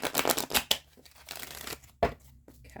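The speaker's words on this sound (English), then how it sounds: "we'll give these decks a couple more shuffles" Quick riffling bursts of a card deck being shuffled close up, two or three rapid rounds separated by short pauses.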